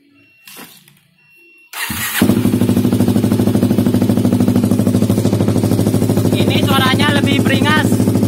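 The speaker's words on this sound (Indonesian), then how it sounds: "Oke, knalpotnya sudah kepasang. Dan pengen dengar lagi suaranya ya." A motorcycle fitted with a perforated carbon exhaust fires up after a quiet moment and settles into a loud, rough, rapidly pulsing idle close by; a brief voice cuts in near the end.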